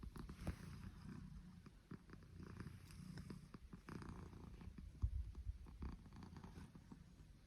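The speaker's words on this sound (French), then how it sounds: "Le troisième signe, c'est le ronronnement." A cat purrs softly and close, a steady low rumbling purr with gentle rhythmic pulses, continuing alone throughout.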